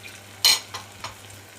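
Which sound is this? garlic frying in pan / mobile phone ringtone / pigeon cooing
garlic frying in pan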